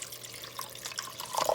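Regular water poured into a beef stew in a cast iron Dutch oven, a close trickling and splashing stream with a few brighter drips and gurgles toward the end.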